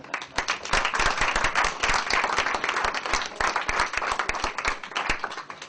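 An audience welcomes photographer Forrest Holzapfel with steady applause: dense, continuous clapping from a full hall that holds strong throughout, no voices standing out.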